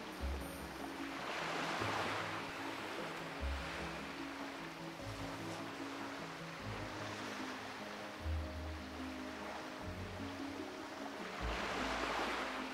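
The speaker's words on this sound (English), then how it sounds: "That noise of the water moving always confuses me." Water gently lapping and churning around a fishing bobber in World of Warcraft Classic, a soft continuous wash with faint surf-like swells and no talking.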